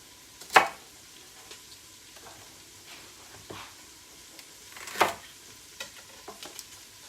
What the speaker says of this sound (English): Give the onions a little stir